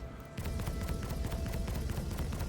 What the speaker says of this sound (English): laser fire that we could look at.